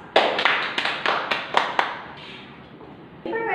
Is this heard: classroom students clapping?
yes